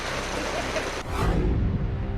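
Heavy rain from Cyclone Yaas pours down as a dense, steady hiss, with a deeper, louder rumbling wash swelling in about halfway through, all without voices.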